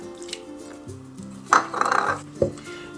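Self-raising flour and milk being mixed into cake batter in a bowl, heard as soft scraping and clinking of a utensil against the bowl, a few louder knocks and swishing strokes, close and alone.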